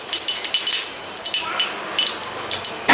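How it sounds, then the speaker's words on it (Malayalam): Mustard seeds spluttering in hot oil in a pan while cooking Kerala sadya dishes, a close, busy crackle of small pops and sizzle with occasional clinks of utensils. "അപ്പോൾ കടുക് പൊട്ടിയിട്ടുണ്ട് കേട്ടോ."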